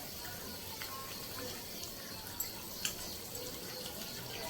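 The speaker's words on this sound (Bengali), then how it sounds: "গরম জল শুদ্ধ বড়িগুলো ঢেলে দেওয়া হলো।" Hot water containing lentil dumplings (bori) pours into a pan of fish curry, giving a soft, steady watery rush with a couple of faint splashes, quiet and uneven.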